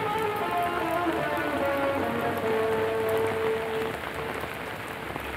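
Steady rain falls on a surface as an even, continuous hiss, with a faint tonal hum running under it and no voices.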